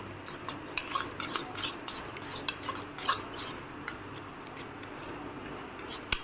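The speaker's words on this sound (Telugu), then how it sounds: "బాగా బీట్ చేయాలి బాగా తిప్పు" Eggs being beaten briskly in a bowl for an omelette, giving a steady run of fast scraping and clinking strokes with a few sharper taps against the rim.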